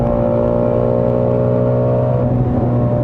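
The 5.2-liter V8 of a 2017 Ford Shelby Mustang GT350R howls at high revs on track, a loud, steady, close engine drone with strong harmonic tones that shift slightly in pitch, no voices.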